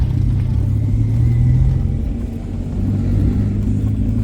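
A Peugeot 205 drives over rough, broken asphalt. Loud, steady tyre and road rumble fills the cabin with a low engine drone, close and continuous, with no talking.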